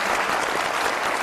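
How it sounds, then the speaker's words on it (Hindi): A studio audience on a television comedy talk show breaks into loud, dense applause, a continuous close wash of clapping with no talking. "बहुत सारी तालियां"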